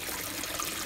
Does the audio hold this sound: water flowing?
yes